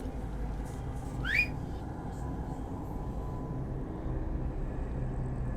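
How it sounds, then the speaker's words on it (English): A single short rising whistle calling a horse in the video game Tainted Grail: Fall of Avalon rings out over a steady low rumble of wind and ambient noise. "Maybe he'll hear if I whistle from up here."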